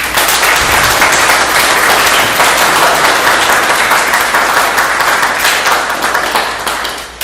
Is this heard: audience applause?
yes